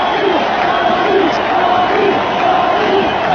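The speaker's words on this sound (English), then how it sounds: "Now they're chanting Bobby." A big baseball crowd at Shea Stadium chanting rhythmically during a 2000 playoff game, a loud continuous roar with repeated two-beat chant swells throughout.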